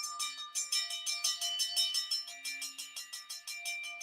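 A new ring bell struck in a rapid steady series, bright metallic rings overlapping with a decaying shimmer, close and loud with no talking.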